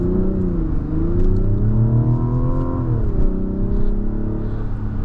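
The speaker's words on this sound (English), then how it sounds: "And that inline six engine sound is just sweet." Turbocharged inline-six of a 2025 Mazda CX-70 Turbo S accelerating, a smooth, steady rising drone heard from inside the car, loud and continuous with no talk over it.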